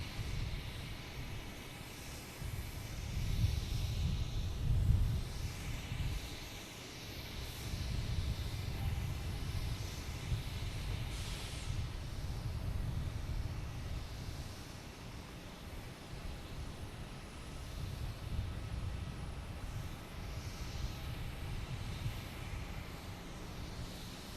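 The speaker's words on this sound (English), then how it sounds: "All right, we have the JetBlue 2896 coming in." A JetBlue airliner, flight 2896, coming in to land at Boston Logan, its low engine rumble rising and falling at a moderate distance and sustained throughout.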